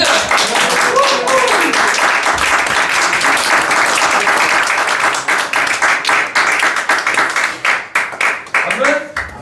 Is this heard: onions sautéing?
no